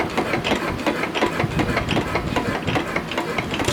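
A small engine that backfires often, idling on a stand in a shop, gives a steady fast chugging rattle with a clicking, machine-like rhythm, close and moderately loud, with no voices.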